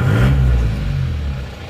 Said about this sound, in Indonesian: Ini kita starter dulu.